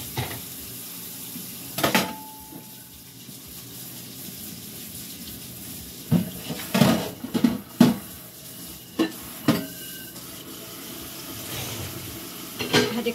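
Water splashes and dishes clink in a sink, with scattered clatters and scrubbing bursts against a steady background hiss.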